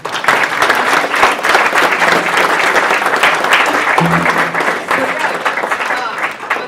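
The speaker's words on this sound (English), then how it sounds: "give him a big round of applause" Audience applause after a talk on race, youth, labor and sound in East Bakersfield, a strong, continuous round of clapping with a few voices and a brief spoken word over it.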